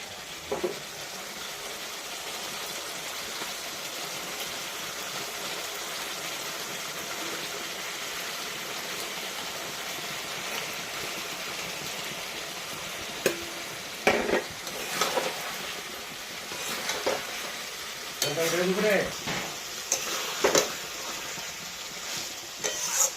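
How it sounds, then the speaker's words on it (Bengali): Rohu fish goes into spice paste frying in a pan, making a soft, steady sizzle with occasional louder bursts and scraping stirs near the end. "মশলা কষানো হয়ে গেছে, আমি এখন মাছটা দিয়ে দেবো।"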